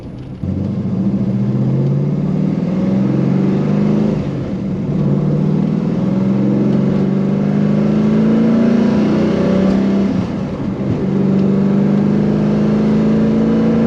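A car fitted with a newly installed Hurst Pro Billet shifter accelerates on a test drive. The engine drones loudly and steadily and climbs in pitch through each gear, with brief dips at the shifts around four and ten seconds.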